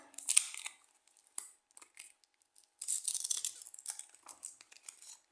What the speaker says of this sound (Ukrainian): ось другий пакетик відкриваємо